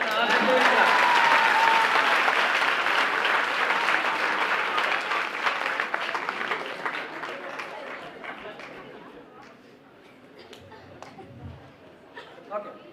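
Audience at a Nepali national youth gathering breaks into loud, sustained applause that peaks early and slowly tapers off, with crowd chatter underneath as the clapping thins toward the end.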